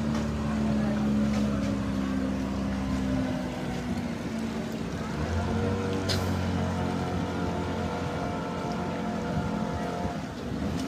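A motorboat engine drones steadily while travelling over flood water in Nigeria, a loud continuous hum with shifting tones and water splashing around it.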